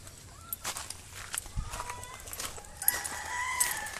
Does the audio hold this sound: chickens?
yes